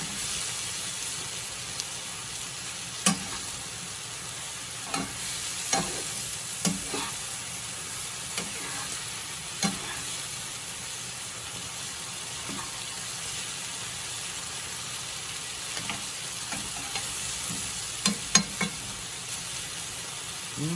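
Onions and garlic cooking in a pan for a marinara sauce, a steady low sizzle with occasional crackles and stirring clicks, heard alone without talk.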